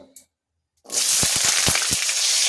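Potatoes hit hot oil after a moment of near silence, bursting into a loud, steady close-up sizzle with a few sharp crackles and spatters.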